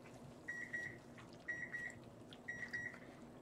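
A kitchen timer beeps in three evenly spaced bursts of two quick electronic tones each, faint and steady over a quiet room hum.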